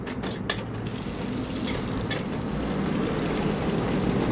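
A tempering of dried chili, bay leaf, green chili and tomato sizzles in a pan for khichuri as it is stirred, a steady, close hiss with soft scraping and faint crackles.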